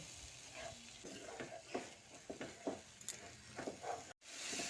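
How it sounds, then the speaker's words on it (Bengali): Spice masala with Kashmiri chili powder and a splash of water sautés in a pan, a soft sizzle broken by repeated scraping and stirring strokes of a spatula, close and fairly quiet. "সামান্য পরিমাণে জল দিয়ে মশলাটাকে ভালো করে কষিয়ে নিচ্ছি"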